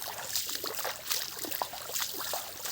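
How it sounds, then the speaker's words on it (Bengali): Water trickles down a hillside in a soft, continuous bubbling and splashing, faint and close, with no voices. "পাহাড় থেকে পানি গেমে গেমে পড়তেছে"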